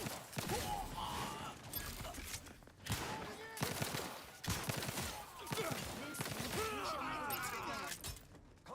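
Rapid gunfire from a weapon in a sci-fi video game bursts in a dense volley of crackling shots and metallic clatter, fairly faint overall with brief breaks between bursts.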